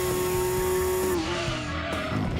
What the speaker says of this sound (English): This Pennzoil GTR has an amazing sound, right?